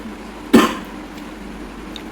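A man with a cold lets out one sharp, close cough in a quiet indoor room at lunchtime. A second cough begins just as the sound cuts off.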